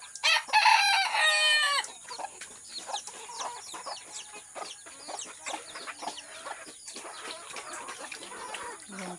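Chickens being raised in a backyard coop, with a rooster crowing loudly at the start while several hens cluck and chatter continuously at closer and farther distances, no talking.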